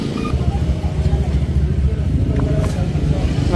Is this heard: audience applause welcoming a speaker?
no